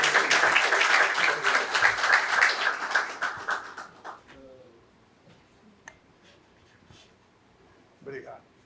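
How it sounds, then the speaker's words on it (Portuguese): Loud applause from a conference audience welcomes an executive to the stage, dense clapping for about four seconds before fading into scattered claps and quiet room noise. "solicitamos uma forte salva de palmas"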